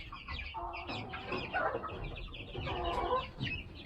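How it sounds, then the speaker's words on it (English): A boss hen clucks and grumbles steadily at newly moved birds in a farm coop, with overlapping chicken chatter filling the space and no voices. "She just has to come in here and see what's going on and give the new birds a hard time."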